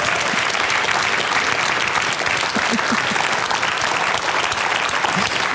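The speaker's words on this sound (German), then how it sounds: "Moses Pelham, bitte einen herzlichen Applaus." Warm, steady applause from a studio audience greets Moses Pelham at the close of a talk show, dense and continuous clapping filling the whole stretch without a break.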